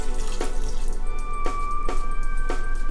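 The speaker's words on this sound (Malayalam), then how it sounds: "ഇനി ഇതിലേക്ക് ഇത് വേവാൻ ആവശ്യത്തിന് വെള്ളം ഒഴിക്കുക." Water is poured into pineapple pachadi being cooked in a Kerala kitchen, a steady close splashing stream broken by a few sharp knocks, loud and without talking.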